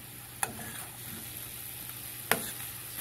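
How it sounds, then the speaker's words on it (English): Finely chopped peppers and onions sauté in a pan with a faint, steady sizzle, broken by two sharp clicks of a utensil against the pan. "I chopped them up really small on the cutting board so that I can saute them"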